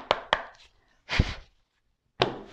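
A deck of tarot cards is cut by hand in a few quick, close, crisp shuffling slaps, with short silences between them.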